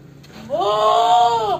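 A single goat bleats on a goat farm, one loud, close, drawn-out cry that rises quickly and holds for about a second.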